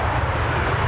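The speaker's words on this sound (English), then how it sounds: "and noisy aeroplanes." An aeroplane passes overhead, a loud, continuous low engine roar with broad rushing noise, steady throughout the short stretch with no voices.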